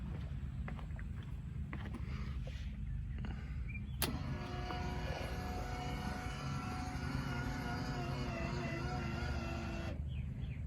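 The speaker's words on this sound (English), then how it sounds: "Let's go ahead and flip the headlights up." Electric pop-up headlights on a 1978 Bradley GT II kit car raising, a steady motor whine with a faint mechanical hum that starts abruptly and runs for several seconds before stopping, heard close up over background noise.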